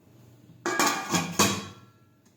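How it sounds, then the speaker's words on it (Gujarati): A metal lid set onto a cooking pot of undhiyu vegetables gives a sharp clatter and a few quick ringing clinks, close and loud, then fades. "હવે આપણે ઢાંકી દઈશું."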